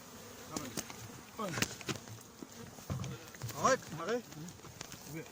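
Bees buzzing in a steady drone with faint harmonic swells during extraction from a huge coral rock, while a person talks over the hum at moderate distance.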